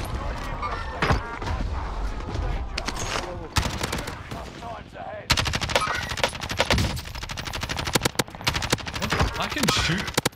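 Dense automatic gunfire in Call of Duty Warzone Pacific, loud rapid bursts and scattered shots running throughout, with a short lull near the middle before a heavier stretch of continuous fire.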